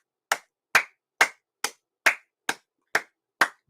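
Eight sharp, evenly spaced claps ring out close up for Coco, each a crisp single slap separated by silence, like one pair of hands keeping a steady beat.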